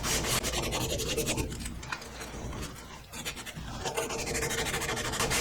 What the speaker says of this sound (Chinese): 把这个要焊接的部位呢，都给它磨得光亮，露出铜本身的这种亮的颜色。